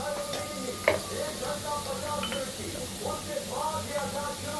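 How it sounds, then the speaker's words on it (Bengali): Cashews and raisins fry lightly in a pan with a steady soft sizzle and occasional stirring scrapes, while a person talks over the cooking throughout. "আর এখানে আমি কিছুটা কাজু আর কিশমিশ নিয়েছি, এটাকে একটু হালকা ভেজে নেব।"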